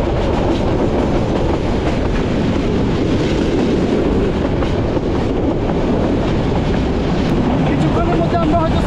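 A train on the hilly Chittagong to Sylhet line rattles and sways, with a loud, dense, steady rumble and clatter of carriages close by that never lets up.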